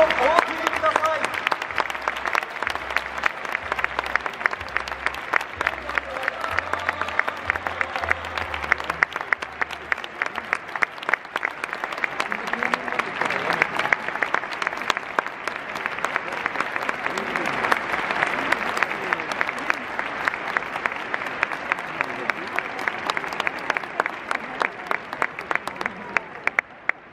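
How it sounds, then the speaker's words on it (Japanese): Sustained stadium crowd applause at a baseball retirement ceremony, dense steady clapping from a large audience filling the whole stretch, with a low announcer voice in the background early on. "山中さんにどうぞ今一度大きな拍手をお送りください"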